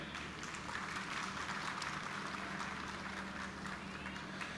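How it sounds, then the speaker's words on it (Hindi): A seated crowd in a pandal at a housing ballot event gives sustained applause, a dense, even clatter of clapping over a low rumble of hall noise, with some voices mixed in. "इस पर तालियां होनी चाहिए।"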